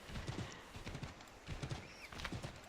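Hooves of a horse clip-clop at a steady trot in Assassin's Creed III, near and continuous, with faint game ambience and a brief bird-like whistle in the background.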